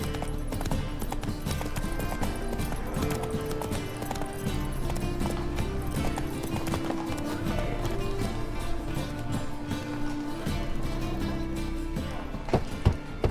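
Horse hooves clip-clop continuously at a steady walking rhythm in The Witcher 3, the horse Roach carrying its rider, moderately close over a bed of ambient game sound.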